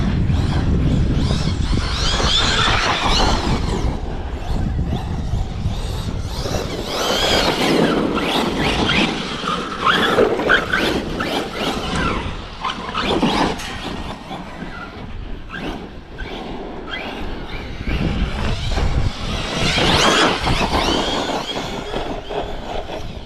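Hobao SSTE RC truck driving hard and pulling wheelies, a loud continuous whining, rattling motor and drivetrain noise with scraping and clattering as it runs, staying close and busy throughout.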